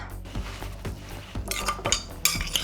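Utensil mixing a no-cook dish in a bowl, with repeated scraping and clinking strokes in a steady rhythm, close and moderately loud, with brighter clinks toward the end and no talking.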